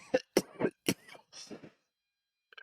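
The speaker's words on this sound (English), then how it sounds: "I do know I coughed in your ears" Several harsh coughs burst out in quick succession, close and fairly loud, followed by a short silence and then a faint trailing sound.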